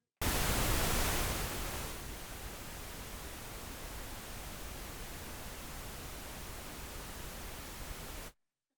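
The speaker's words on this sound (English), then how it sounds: "Then we have pink noise." Pink noise test signal from a Behringer X32c mixing console: a continuous broadband rushing hiss, brighter for the first two seconds, then steady and even until it cuts off cleanly.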